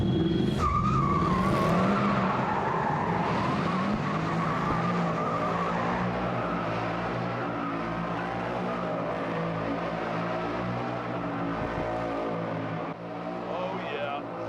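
Loud, sustained roar of car engines revving hard beneath a crumbling roof, with tires squealing and voices talking over the din throughout.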